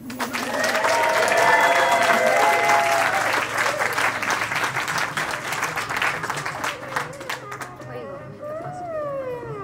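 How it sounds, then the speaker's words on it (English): Wedding guests break into loud, dense applause that gradually thins into scattered claps, with voices talking as it fades. "can we give little clap for them?"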